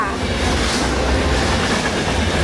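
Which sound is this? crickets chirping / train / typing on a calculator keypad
train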